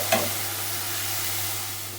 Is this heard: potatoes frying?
yes